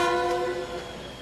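China's Beijing to Hong Kong Express train sounds its horn in one sustained, loud multi-tone blast that fades toward the end.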